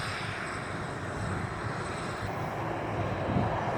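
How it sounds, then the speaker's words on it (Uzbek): A passenger airplane lands at Riga airport, its engines producing a steady, broad roar that holds at an even level throughout, with no voices. "Mana bitta samolyot kelib qo'ndi mana"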